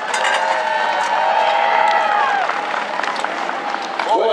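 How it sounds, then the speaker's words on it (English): Crowd applause and cheering in the stands after a race at Grays Harbor Raceway, a steady dense wash of clapping and distant shouts that holds at even loudness throughout with no speech. "round of applause."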